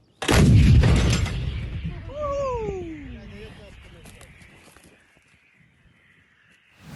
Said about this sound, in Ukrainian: Зараз артилерія.